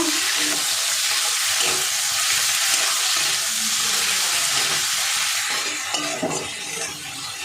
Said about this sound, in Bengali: পোস্ত বাটাটা দিয়ে একটু মিশিয়ে নেব